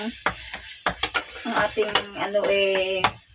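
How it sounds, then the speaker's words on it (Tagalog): Aromatics including garlic sauté in a pan for a chicken feet dish, bright sizzling broken by quick, loud scrapes and clinks of a spatula against the pan, with a brief tonal hum partway through. "igigisa muna natin ang ating mga sangkap"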